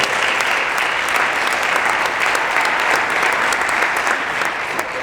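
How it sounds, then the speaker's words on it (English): Steady, dense applause from an audience at a high school jazz band concert, honoring the band's soloists; the clapping stays loud and even throughout with no talk over it. "Please, a round of applause for all the solos."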